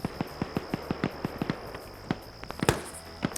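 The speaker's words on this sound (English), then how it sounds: "Oh, wait. I hear footsteps." Video game footsteps in a competitive shooter match: a quick, even series of distinct steps at moderate volume, followed by a few louder, irregular impacts toward the end, over a constant high-pitched hum.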